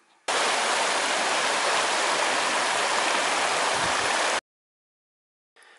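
Steady broadband rushing of the Rosenbach stream flowing along its partly relocated bed, loud and continuous for about four seconds, then cutting out abruptly before briefly resuming at the end.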